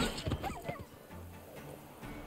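Dogs in The Witcher 3 give a few brief yips and whimpers early on, fairly faint, followed by a low ambient forest drone.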